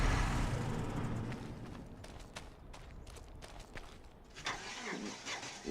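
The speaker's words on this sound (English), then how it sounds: "I swear that truck sounds better and better every time I start it." A truck engine in a video game cranks and turns over, a rough mechanical noise that drops into a low idle with some clunks and clicks afterward.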